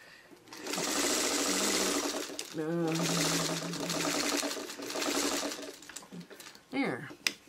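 A sewing machine stay stitching quilt pieces runs in two long, steady bursts with a short pause between them, close and fairly loud, and a person talks briefly near the end.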